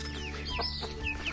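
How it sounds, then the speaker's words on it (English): Chickens clucking and squawking in a farmyard, several birds calling in quick overlapping bursts, close by and fairly faint, with no talk. "these chickens just go crazy for them"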